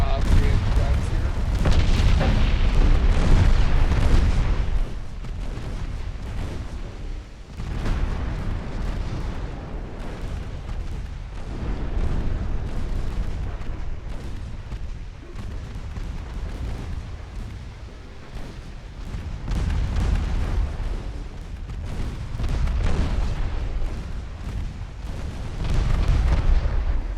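Three-inch naval guns on a light cruiser in Ultimate Admiral Dreadnoughts fire in a continuous barrage of booming reports and rumbling detonations, loud and layered throughout, with someone talking over the din at times.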